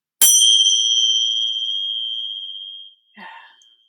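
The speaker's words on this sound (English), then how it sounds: "So let us begin with the bell." A single bell struck to open a yoga class, giving a clear bright ring that sustains and fades slowly over a few seconds before a brief soft sound follows.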